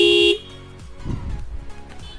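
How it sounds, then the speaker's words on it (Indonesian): A Toyota Innova car horn fitted to a Honda CBR250RR motorcycle blares one loud, close, steady honk for about a third of a second, then cuts off into quiet handling noise. "jadi klaksonnya kenceng banget kan"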